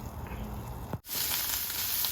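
Rice stir-fries in a pan of plentiful hot oil with salted fish, continuous oily sizzling and crackling, with a brief dip partway through before the sizzle returns louder and brighter.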